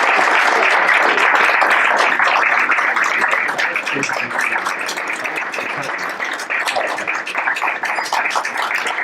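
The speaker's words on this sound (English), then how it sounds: "let's give him a round of applause" An audience applauds a performer at a benefit concert, many hands clapping loudly and steadily, the sound easing slightly partway through but holding on to the end.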